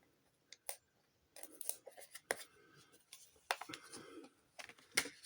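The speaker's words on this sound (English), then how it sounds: "Just peel off all the labels and stuff." Labels are peeled and torn off the packaging of a TWSBI Eco Rootbeer fountain pen, giving quiet, close bursts of scratchy ripping and rustling with short pauses between pulls.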